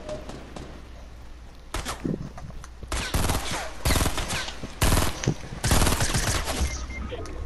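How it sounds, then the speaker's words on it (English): Rapid bursts of gunfire in the Fortnite video game, played on PS4, as the player gets shot, coming in several loud volleys separated by short gaps over a steady low background hum. "I'm getting shot."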